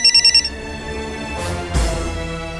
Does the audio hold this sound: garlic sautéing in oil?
no